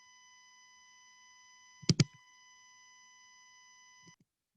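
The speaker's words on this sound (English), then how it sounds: "I do hear the ringing, actually, and that's probably somebody that I need to mute" A faint, steady electronic ringing tone from an unmuted participant's microphone in an online lecture hums continuously for about four seconds, broken only by a couple of soft thumps, with no talking.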